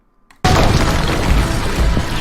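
A loud, sudden blast tears through a building in the battle royale mode of the video game Mavericks Proving Grounds, followed by a sustained roar of crumbling, rumbling debris.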